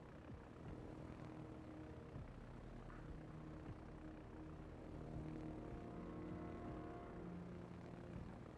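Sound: planes flying in World of Warships video game

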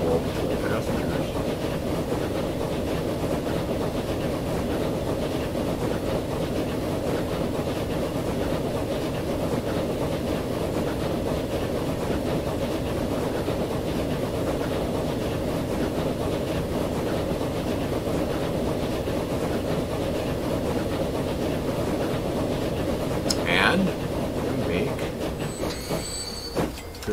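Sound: trains running in Transport Fever 2 video game

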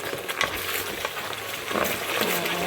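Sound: chopped garlic frying in pan

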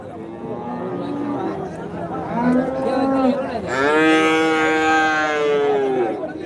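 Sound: HF and Jersey calves at a cattle market

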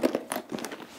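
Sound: zippers of a knitting bag being opened

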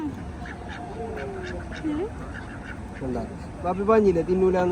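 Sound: ducks quacking

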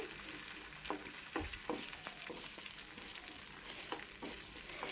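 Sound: egg being fried and scrambled in a pan

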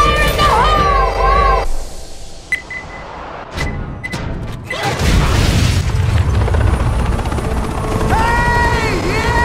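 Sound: explosion in the video game Left 4 Dead

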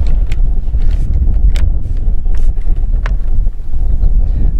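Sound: gusty wind blowing across the microphone

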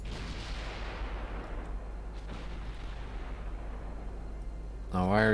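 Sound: naval gunfire in Ultimate Admiral Dreadnoughts video game

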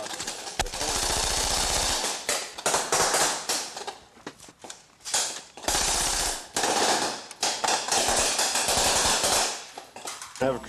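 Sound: gunfire from firing teams in training exercise

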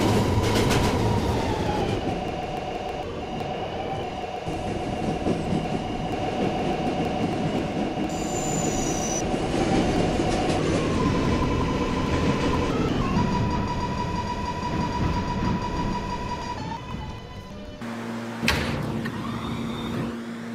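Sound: R211 subway train running in the Roblox video game

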